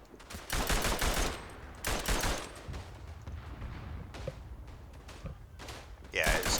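Bursts of machine gun fire in the trench shooter Verdun, several loud rapid volleys at the start and middle with scattered thuds between, players talking over the action.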